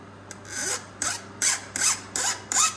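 Hand file rasps across a Stihl MS271 chainsaw chain in a garage, six short, evenly spaced strokes, close and crisp, with a low hum underneath.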